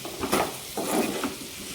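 Brinjal pieces with salt and turmeric are stirred in a pan, a few quick scraping and clinking spoon strokes over a faint sizzle.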